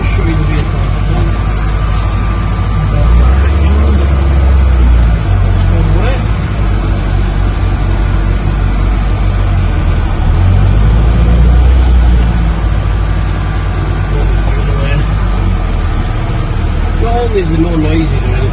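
A 1966 Morris 1000 convertible's engine hums steadily at low pitch throughout, with a person talking over the running motor.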